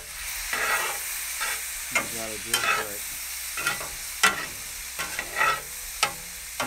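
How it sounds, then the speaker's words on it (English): Tempeh sizzles and crackles in a hot frying pan, stirred with scraping and clinks, while a voice speaks briefly over it. "when it stops sizzling so much"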